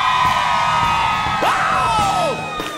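A gospel concert crowd screams and cheers loudly and continuously, with rising whoops and yells standing out over the sustained roar before it eases slightly at the end.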